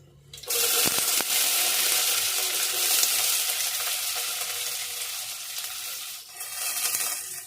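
Onions dropped into hot oil for thakkali bajji: a sudden loud burst of sizzling that stays strong and steady, dips briefly near the end, then flares up again.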